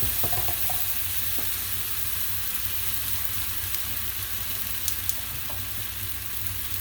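Sauce cooking in a pan for a simple meal-kit dinner, giving a steady low sizzle and bubbling throughout with a few faint clinks, no voices.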